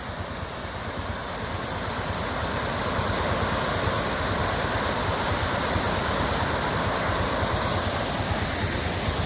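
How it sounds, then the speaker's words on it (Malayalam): A waterfall passed on the road at the start of a camping trip roars with a dense, continuous rush of falling water, loud and steady throughout. "നല്ലൊരു കിടിലം വെള്ളച്ചാട്ടം."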